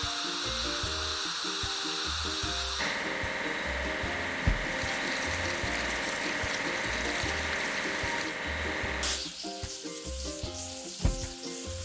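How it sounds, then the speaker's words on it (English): A cement mixer in a kids' truck-and-building mobile game churns with a gritty, sizzling rotary whir and mechanical clicks, layered over bouncy game music and breaking off near the end. "Cement mixer."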